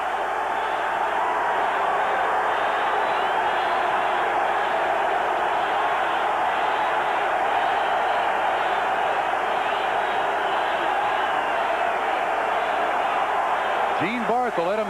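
A 1988 Patriots home crowd at a football stadium roars steadily, a broad sustained wash of cheering and noise that stays loud throughout, with faint whistle-like tones near the end.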